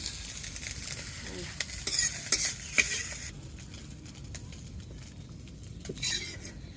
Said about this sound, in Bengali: তরকারির মাছ হালকা একটু ভেজে নিলাম